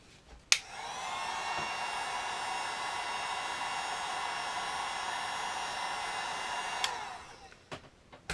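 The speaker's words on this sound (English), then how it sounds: "Doesn't take much with the heat gun. The blow dryer takes a little bit more, just because it just doesn't heat up quite as fast as the heat gun" Steady whooshing airflow of a heat gun or blow dryer heating a Talon grip, running continuously for about six seconds between sharp clicks as it switches on and off, with no talk.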